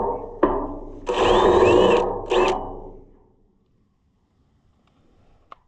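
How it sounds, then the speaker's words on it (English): A power drill whirs in a few short, high-pitched bursts as it drills the heads off aluminum rivets on a livestock trailer, then winds down into near silence. "Let's see if we can just drill the head off of those rivets."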